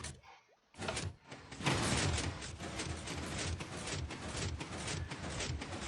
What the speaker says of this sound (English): The delays on each one is a little bit more of a delay as the elevator goes down